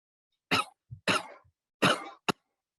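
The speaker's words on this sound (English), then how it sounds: "I'm going to cough, and I'm healthy" A healthy person coughs into a recording for a COVID-19 detection model: three sharp, close coughs with a small throat sound between them and a final short cough, in a quiet room.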